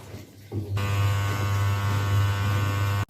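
Washing machine running steadily with a loud, constant motor hum, starting quietly then swelling after half a second into a continuous drone until it cuts off at the end.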